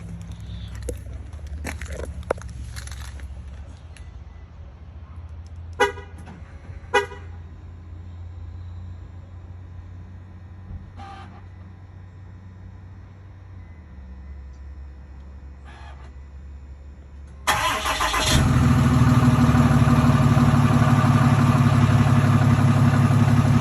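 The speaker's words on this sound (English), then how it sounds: "let's get a nice cold start on this brand new exhaust" A truck with a brand new exhaust starts from cold: quiet low idling and a few clicks first, then the engine fires and roars loudly through the exhaust, close by, with no talk.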